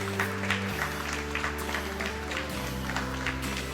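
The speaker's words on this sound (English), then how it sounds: "There's some clapping going on in Poland" An audience claps steadily through the rifle hybrid final of the Polish Open in Poland, in an indoor finals hall at a shooting range. The clapping stays continuous over a sustained humming tone, with no talking.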